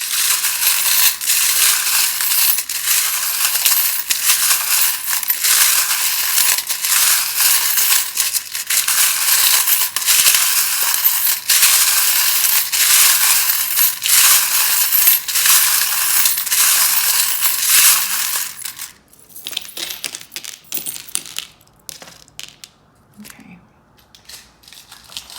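Tarot cards are shuffled in loud, dense, crackling riffles for about twenty seconds, then a few sparser taps and slides as the deck settles, close and without talking.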